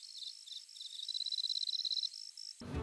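Crickets chirp in a steady, high-pitched series of quick repeated trills that swell slightly, then cut off abruptly near the end as a different louder noise takes over.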